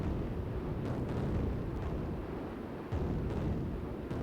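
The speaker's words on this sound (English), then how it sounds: "and of course, constant flak" Flak bursts in the Strike Fighters 2 combat flight game, heard as a steady rumbling roar with several dull booming thumps spread through the span, no voices.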